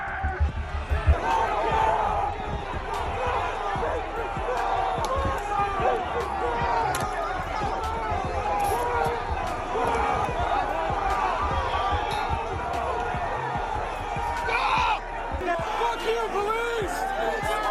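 Dense, chaotic crowd noise of rioters clashing with police on the US Capitol stairs, with shouting, yelling and sharp impacts layered into a loud, continuous roar that barely dips throughout.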